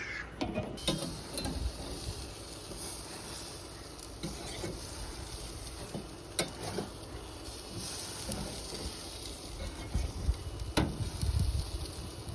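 Bacon burgers sizzle steadily on a grill at around 350 degrees, a faint, continuous crackling hiss with occasional soft clicks and pops, no voices.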